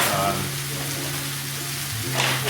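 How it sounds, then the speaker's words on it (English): Brisket searing in a hot pan gives a steady close sizzle and hiss throughout, with someone talking over it. "Okay, here we are searing this."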